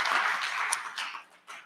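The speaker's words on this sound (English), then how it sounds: "Let's give a round of applause" Applause from a hackathon audience welcoming a judge during a livestreamed event, a broad steady wash of clapping that holds for a moment, dips briefly and then swells again.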